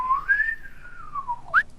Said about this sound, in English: I can try to whistle